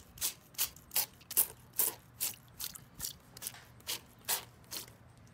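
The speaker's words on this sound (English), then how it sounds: "now I'm gonna get to spraying." Fungicide solution sprayed onto outdoor orchid plants from a hand spray bottle, about a dozen evenly spaced trigger squirts in a steady rhythm, close and clear with no talking.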